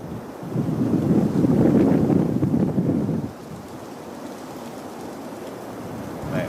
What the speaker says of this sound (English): it is the biggest gust of wind we've had all evening